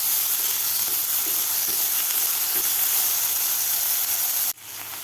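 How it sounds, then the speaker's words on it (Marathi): Chopped onion for sago upma sizzles steadily in a hot pan, an even bright frying hiss with faint stirring scrapes, dropping off abruptly near the end. "कांदा सुद्धा थोडा 1 मिनिटभर आपल्याला फ्राय करून घ्यायचा आहे"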